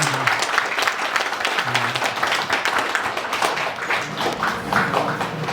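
A lecture audience at a 2023 Korean national land and security talk by Land Minister Won Hee-ryong breaks into sustained applause, dense continuous clapping from a hall crowd.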